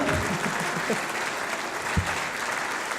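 Audience applause for performers of a sung chanson, a steady dense wash of clapping throughout the short stretch, close and fairly loud with no talk over it.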